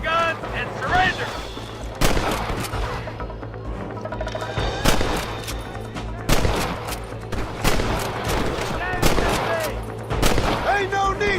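Gunfire in the video game Red Dead Redemption, with repeated sharp shots and heavier booming blasts in irregular bursts over a steady background, while game characters shout over the shooting.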